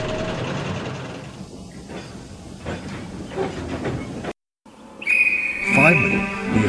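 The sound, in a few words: guard's whistle blowing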